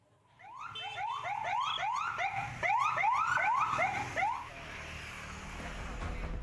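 An ambulance siren in Sindangkerta, Bandung Barat, wails in rapid rising sweeps, repeated a dozen times at close range before fading into background noise.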